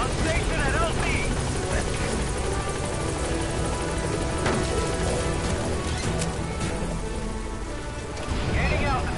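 Helicopter in the Metal Gear Solid V video game hovering at a landing zone, a loud, continuous rotor roar filling the scene with a rain-like wash throughout, faint game voices underneath.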